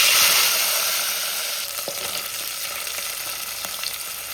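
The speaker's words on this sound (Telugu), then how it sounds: "ఇప్పుడు ఈ మెత్తళ్ళు వేయించుకుందామండి." Small cleaned fish (methallu) fry in hot oil with a loud, dense sizzle that eases slightly, punctuated by a few faint utensil taps.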